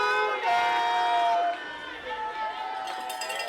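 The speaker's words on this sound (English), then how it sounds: "Piscataway chant going through the crowd here." Piscataway high school football fans chanting in the stands at a game against Manalapan, a rhythmic crowd chant carrying at a distance over general crowd noise.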